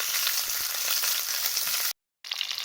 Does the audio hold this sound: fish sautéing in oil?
yes